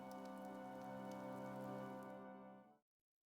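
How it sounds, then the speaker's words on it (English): Steady rain pouring down in the video game Fire Emblem: Three Houses, a dense, even wash of falling water that holds for under three seconds and then cuts to silence. "The rain is really coming down now."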